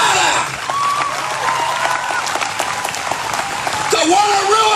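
Crowd clapping and cheering in a large space, with a voice calling out over the applause.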